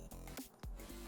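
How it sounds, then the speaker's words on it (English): Hand-cranked flour sifter working through 1.5 cups of flour for pancake batter, a few quick, close mechanical rasping strokes with short pauses, heard alone. "I'm going to sift it so they will be more fluffy"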